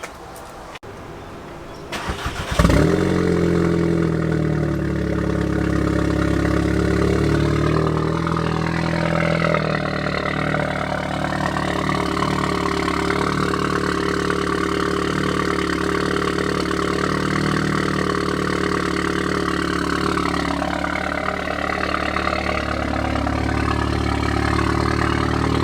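Audi S3 fitted with an AWE Tuning switch path exhaust starts up with a brief crank and fires, then settles into a loud, steady, droning idle with slight swells in pitch, heard close and alone.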